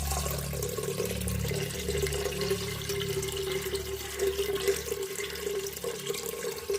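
Continuous rushing water, steady and fairly loud, like a stream being poured or running from a tap, with no pauses.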